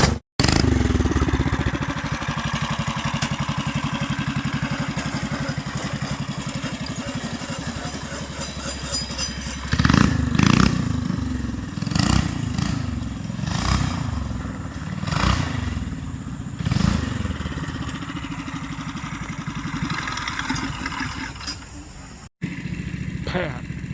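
A homemade supercharged go-kart engine with a torque converter, on a rat-rod Cadillac build, idles and clatters steadily, then revs up in several loud surges during its first test ride, with voices talking over it.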